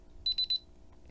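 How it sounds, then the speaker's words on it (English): Three short, high electronic beeps in quick, even succession from a DSC alarm keypad, close and clear against a quiet background. "we'll hear a few beeps"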